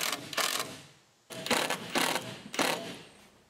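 A power driver sinks screws into a 2x8 board during a DIY pop-up camper rebuild: four short whirring bursts with brief pauses between them, fairly quiet.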